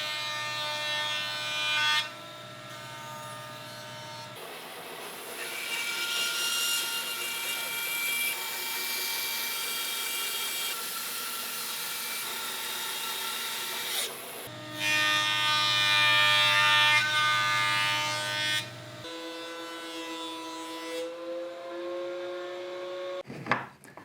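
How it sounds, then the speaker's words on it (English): A bandsaw resaws a walnut or maple board down the middle for a book match, giving a loud steady whine with clear tonal shifts as the blade cuts and runs free. "at the bandsaw, I'm going to resaw this open right down the middle to create a book match"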